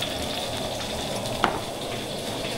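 Fish fries in hot oil, giving a steady close sizzle with a single small pop in the middle.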